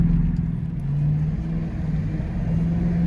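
A Dodge Charger Pursuit's 5.7L HEMI V8 drones steadily at close range with exhaust cutouts open, rising slightly in pitch as it pulls, with a low rumbling exhaust throughout.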